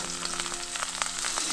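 Garlic and onion fry in hot oil with a dense, close crackling sizzle and small rapid pops throughout.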